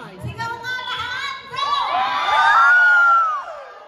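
A crowd at a family reunion shouts and cheers together, with children's yells rising into a loud, sustained whooping roar that peaks near the end before fading.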